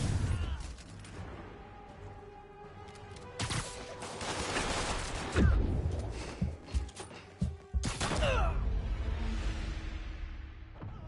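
Sniper gunfire in the Marvel's Spider-Man video game: a string of sharp cracks and booms over a busy game soundscape, with several loud shots close together and a heavy blast near the middle.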